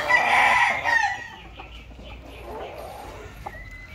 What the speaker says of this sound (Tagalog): Gandang broodstag to, ganda ng height.